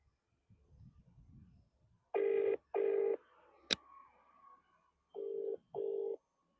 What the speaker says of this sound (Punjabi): ਮੰਮੀ ਨੂੰ ਫੋਨ ਕਰਕੇ ਦੱਸ ਹੀ ਦਿੰਨਾ ਵਾਂ